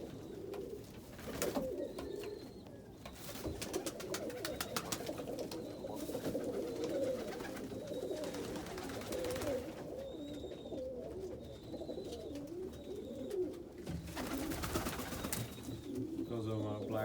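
Pigeons coo repeatedly in a crowded breeding loft of reversing pigeons, soft throaty calls overlapping close by with rustling and occasional sharper bird calls, with no talking.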